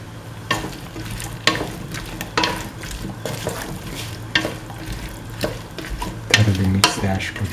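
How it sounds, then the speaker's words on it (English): Hash brown pieces being stirred into a beef, ash gourd and coconut milk stew mixture in a pan, with repeated scraping strokes over a steady sizzle and a louder burst near the end. "Thoroughly mix the hash brown pieces with the rest of the mixture."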